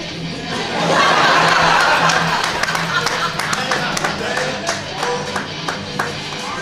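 An audience claps for a contestant at a comic-con cosplay competition, a swell of applause that thins into scattered, crisp hand claps, with voices and some laughter mixed in.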